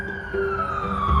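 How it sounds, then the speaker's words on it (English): A steady siren tone from emergency vehicles passing along a nearby road, faint and held through the short stretch, with a low rumble of traffic beneath. "Sorry, I have sirens at the road passing through."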